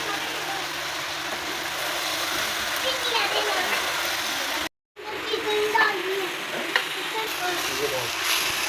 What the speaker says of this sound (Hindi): अब ये मिर्ची हम इसमें डाल देंगे।